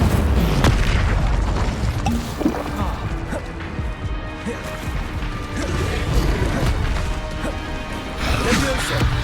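An Incendio fire spell is cast in Hogwarts Legacy, its loud booming crashes and bursts packed together with other combat impacts in a dense, continuous battle din, with speech heard over it.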